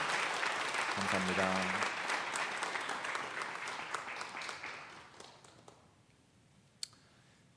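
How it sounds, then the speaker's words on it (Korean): Church congregation applauding during a Sunday worship service, a broad wash of clapping that fades out over several seconds, with a short spoken phrase heard near the start. "우리 함께 박수로 격려하도록 하겠습니다."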